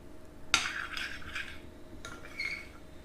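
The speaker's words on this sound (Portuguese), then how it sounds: "E agora eu vou mexer." Homemade slime mixture with lemon-scented foam being stirred in a container, a sharp opening clink followed by soft scraping swirls and a second tap, close and fairly quiet.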